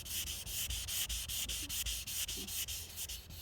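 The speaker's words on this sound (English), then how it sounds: "Always make sure when you're wet sanding that you obviously keep the sandpaper in the area wet." Wet sandpaper rubs across car paintwork to remove bird dropping etching, making close, rhythmic back-and-forth scrubbing strokes about three per second, evenly paced and alone.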